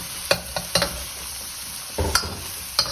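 Egg frying with vegetable Singapore fried rice in a pan over modest heat, a continuous sizzle punctuated by several sharp spatula clacks and scrapes at irregular intervals.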